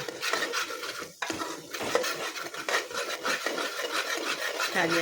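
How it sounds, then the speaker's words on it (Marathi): A spoon scrapes and rubs inside a pot as chilli powder, turmeric, coriander powder, garam masala and Kitchen King masala are mixed in. The scraping is close and continuous, with short pauses. "त्याच्यात तिखट आणि हळद धनिया पावडर गरम मसाला किचन किंग मसाला आता मिक्स करून घेतो"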